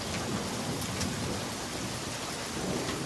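Pouring rain hisses steadily on surfaces while thunder rumbles low underneath, a dense, constant downpour with a couple of brighter splashes and no talking.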